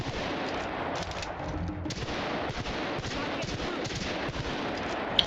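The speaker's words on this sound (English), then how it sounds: "Hello, I'm shooting you" Gunfire in The Outer Worlds video game fills the scene as a steady, moderately loud stream of shots and impacts over continuous background noise, with a sharp crack at the end.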